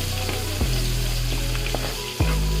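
Garlic sautés in a pan, a loud close sizzle with a low steady hum underneath and a couple of abrupt stirring shifts as it is mixed, no speech.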